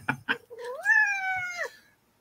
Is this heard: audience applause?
no